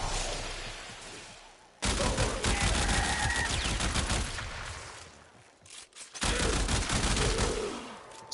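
Burston gun in a video game firing loud, dense bursts of rapid shots, broken by brief silent gaps between volleys.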